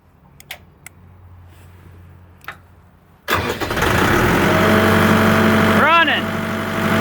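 A Putzmeister concrete line pump engine, started from a wired remote, cranks and catches after a few faint clicks, then settles into a loud, steady running drone with a brief rise partway through.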